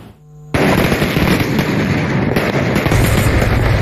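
A New Year's Eve fireworks display in Taman Jokowi Iryana, Kaimana, bursts in abruptly after a brief quiet lead-in, then keeps going as a dense, continuous crackle of loud explosions.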